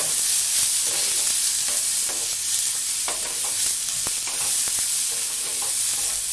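Oil heats and fries in a pan for fish sambar, giving a steady, close sizzle with scattered sharp pops and crackles and occasional stirring clinks, with no voices.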